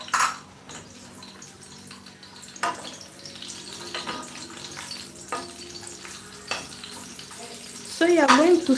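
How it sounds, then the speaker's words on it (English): Chopped red onion stir fries in a pan, a steady sizzle with occasional scraping stirs and clinks, while a faint tonal whine sounds near the end. "So you are going to stir fry them until they are all turned into brown color."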